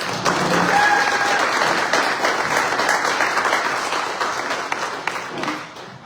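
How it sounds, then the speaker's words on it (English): An audience at a small business of the month award celebration gives a round of applause, full, sustained clapping that slowly tapers toward the end. "Let's give them a round of applause."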